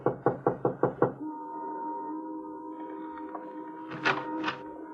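Six quick, evenly spaced knocks on a house door, close and firm, as a radio drama sound effect, followed by a quiet room tone and a couple of soft thumps.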